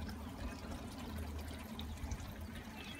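Faint, steady trickling water from a balcony bonsai irrigation setup dripping from tray to tray, a soft continuous flow at low level with no talk.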